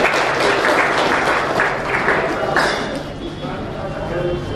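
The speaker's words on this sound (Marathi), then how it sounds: "जोरदार टाळ्या गजरात स्वागत करा" Audience at a poetry reading gives a burst of loud, continuous clapping to welcome a poet onto the stage, a dense crowd applause that holds steady for several seconds before easing slightly.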